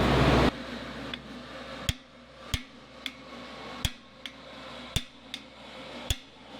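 Sharp hammer blows drive a cam bearing into an engine block, landing about every half second to second in a loud, regular series with a faint hum beneath.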